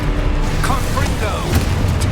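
A Confringo fire spell explodes in Hogwarts Legacy amid dense game combat noise, with several bursts and booms over a constant loud rumble and some magical whooshing.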